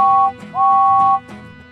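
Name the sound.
train whistle tooting three times, Thomas & Friends video game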